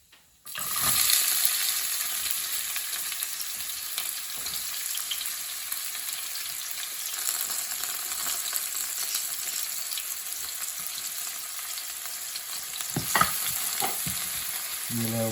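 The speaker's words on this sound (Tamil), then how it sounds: "ஆனியன் ஃப்ரை ஆகட்டும்." Chopped onions frying in a pan for a chicken curry, a steady close sizzle throughout, with stirring scrapes rising briefly near the end and no talking.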